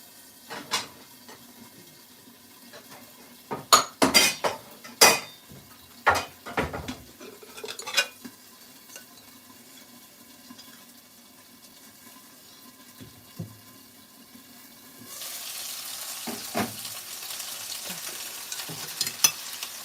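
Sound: pork cutlets frying in pan

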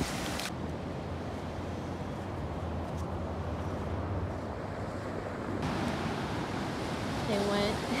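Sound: ocean waves on the beach at Laguna Beach

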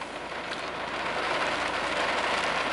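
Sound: heavy typhoon rain hitting surfaces

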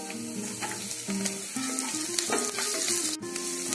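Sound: garlic and green chilli frying in hot oil

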